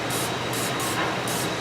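Aerosol bursts of Fluid Film lubricant sprayed onto a Dodge truck's ball joint: four short, hissing sprays in quick succession, close and loud over a steady background hum.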